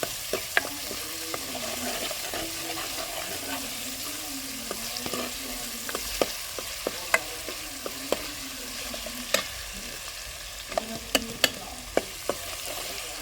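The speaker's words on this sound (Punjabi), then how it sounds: "ਚੰਗੀ ਤਰ੍ਹਾਂ ਪਹਿਲਾਂ ਤੇ ਮਸਾਲਾ ਨੂੰ ਭੁੰਨਾਗੇ ਦੇਖ ਸਕਦੇ ਤੁਸੀਂ" Spice masala for a ginger-garlic curry frying in a pan, a steady close sizzle with repeated sharp clinks and scrapes from stirring, plus a low hum underneath.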